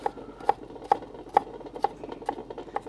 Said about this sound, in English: We're doing a brunoise cut now.